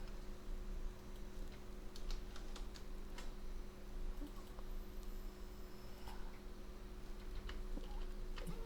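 Soft, close clicking of keys on a computer keyboard, quiet and irregular, with scattered taps over a low steady hum and no talking.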